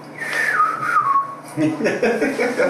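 A man whistles the Bridge on the River Kwai tune, a clear falling melodic line up close that gives way to clattering activity and faint background noise.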